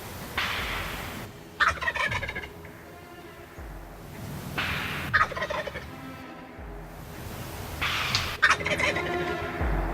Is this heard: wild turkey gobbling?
yes